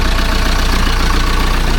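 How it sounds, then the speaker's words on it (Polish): Diesel engine of an Ursus C-360 tractor running steadily after an overhaul, a continuous low rumble with a regular idling pulse, close and loud throughout. "I tak silnik pracuje."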